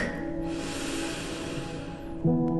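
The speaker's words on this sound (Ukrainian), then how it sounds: "Ще раз глибокий вдих" A slow, deep breath in and out during a calm bedtime relaxation exercise, a steady soft breathy hiss that lasts a couple of seconds alone, ending with a brief tonal swell.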